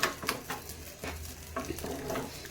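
Chopped cashews frying in hot ghee, a steady close sizzle with soft stirring scrapes and light patter of nuts in the pan, no voices.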